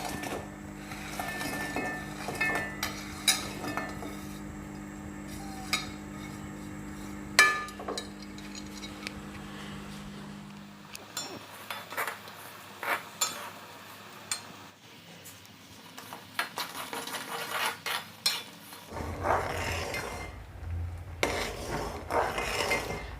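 A metal spoon repeatedly scrapes and clinks against a pan as jaggery melts in a quarter cup of water for pazham pradhaman, irregular close taps over a low hum that drops away midway, no voices.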